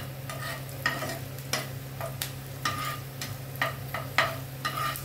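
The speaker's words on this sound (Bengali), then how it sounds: "পেঁয়াজটা আগে তেলে আমি ভেজে নিচ্ছি অল্প করে।" Onions frying in oil in a pan for a spinach fish curry, with a soft steady sizzle broken by regular scraping stirs roughly every half second, close by and alone.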